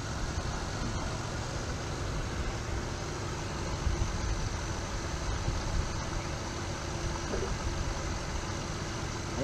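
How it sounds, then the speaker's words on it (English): A small grinder powered through a 400 watt inverter runs continuously, a steady loud motor whir with rough low rumble and no pauses. "We're going to see if this 400 watt inverter will run this little grinder"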